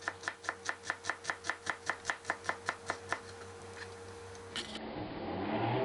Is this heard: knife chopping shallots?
yes